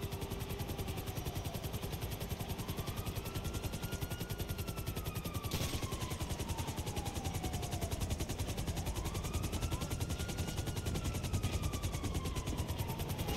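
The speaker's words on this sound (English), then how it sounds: "This one's actually a really nice helicopter." Steady rotor chop of a helicopter in Grand Theft Auto Online, with a droning engine whose pitch sweeps up and down, constant and fairly loud throughout.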